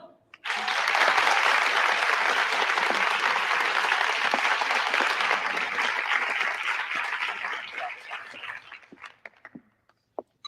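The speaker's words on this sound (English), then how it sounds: "please give a warm round of applause for Helen." An audience gives a warm round of applause for the last contestant of the evening on a quiz show. The clapping swells quickly, holds loud and full for about eight seconds, then thins out to scattered claps.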